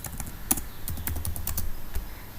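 Close, steady typing of code on a computer keyboard, a quick run of clicky keystrokes with uneven rhythm and a few sharper taps, with no talking.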